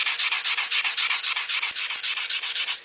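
Stainless steel trim being hand-sanded to remove scratches, a close, rapid rhythmic rubbing of about twenty even back-and-forth strokes with no voices.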